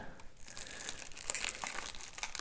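Soft crinkling and rustling of packaging as a parcel of mosquito screen parts is opened, quiet and close, with light tearing textures and no talking.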